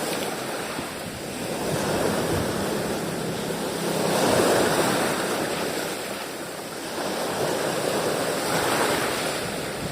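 Sea waves washing onto the shore at a fishing spot, a continuous rushing surf that rises and falls in slow surges, with wind buffeting the microphone throughout.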